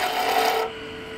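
A woodturning tool taking a peeling cut on spinning wood at a lathe, a close, steady scraping rasp for about half a second before it eases off to a quieter hiss.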